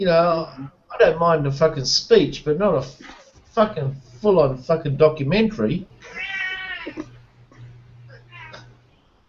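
A cat meows in short, harmonic cries that break in over continuous human talk, reasonably close and clear.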